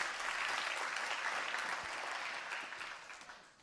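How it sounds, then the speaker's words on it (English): Steady applause from a conference audience, dense clapping that holds for a few seconds and then slowly fades. "Give Sergey a big applause"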